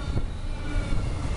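A steady, heavy rumble of a train rolling along, with low clatter and continuous broadband noise, close and loud.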